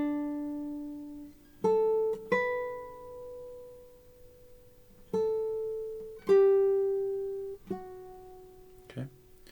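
Classical guitar playing Ludovico Roncalli's Gavotte from measure 3 at a slow practice tempo; single plucked notes and short phrases with ringing sustain and gaps between them, close and clear, alone.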